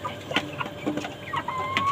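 Chickens on a rooftop garden pecking at chopped greens, giving short, close clucks and soft calls in quick irregular bursts, with no talking.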